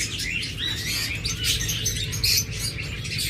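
Pet Forpus parrotlets in a cage give a dense, continuous flurry of high chirps and twitters, close and lively, with no pauses.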